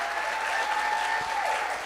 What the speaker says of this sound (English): Please, round of applause for our graduates.